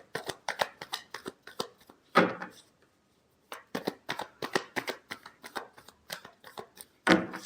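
Tarot deck being shuffled by hand in two quick bursts of close, crisp card slaps and riffles separated by a brief pause, loud and dry, with no voice.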